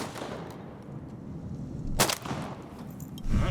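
A shotgun fires at ducks during a duck hunt: one sharp, fairly distant blast rings out midway through a steady outdoor background.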